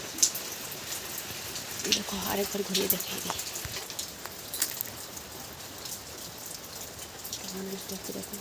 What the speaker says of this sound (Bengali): আমাদের এখানে আজকে চৈত্র মাসে আজকে বৃষ্টি হচ্ছে